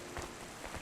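Soft, steady rain patters on surfaces in the rainy city streets of the Cloudpunk game, a faint continuous hiss with a few slightly louder drops in a brief moment.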